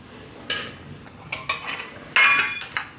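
Garlic is grated by hand for spinach and sesame thepla in a Gujarati kitchen: four or five short, bright scraping strokes at uneven intervals against a quiet background.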